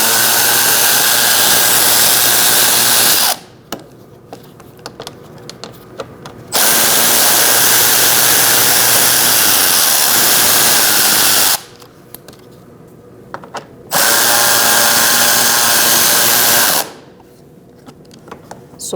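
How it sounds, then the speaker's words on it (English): A power tool fitted with a 7mm socket runs bolts out from underneath a 2016-2019 Chevrolet Cruz during AC condenser replacement: three loud, sustained whirring bursts of several seconds each, separated by quieter pauses with faint handling noises. "Now we're going to remove 3 bolts underneath using a 7mm socket."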